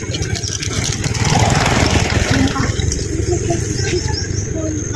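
A motorcycle engine runs at a steady mid-pitched idle nearby throughout, with voices talking over it and birds faintly chirping in an outdoor mango orchard.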